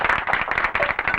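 An audience claps together in a dense, lively burst of many hands, fairly loud and close, with uneven rhythmic peaks running through the whole stretch and no talk over it.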